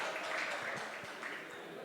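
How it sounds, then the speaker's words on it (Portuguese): Audience applause thanking Google at a church talk, a brief burst of many hands clapping that fills the room and holds steady, tapering slightly at the end. "Uma salva de palmas para o Google"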